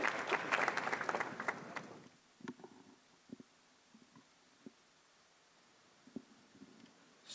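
Audience at a ceremony clapping to welcome a reverend to the podium, a dense burst of applause for about two seconds that then dies away into a few faint scattered thuds and shuffles.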